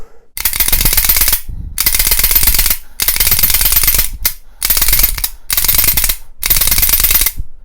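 Slide of a Rock Island Armory 1911A1-FS pistol worked rapidly back and forth to spread lube, heard as six loud, dense bursts of metallic rattling, each about a second long, separated by short pauses, with no talk.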